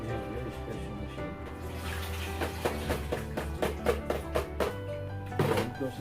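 Running water rinsing salad lettuce at an eco farm, a steady splashing flow close by with irregular wet slaps as the leaves are handled, over a low hum and music, with no talk.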